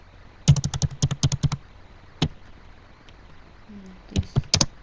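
Typing on a computer keyboard while writing HTML, close and crisp: a quick burst of about ten keystrokes, a single stray tap, then a few more keys near the end, with quiet room tone between.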